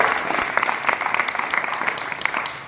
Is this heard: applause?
yes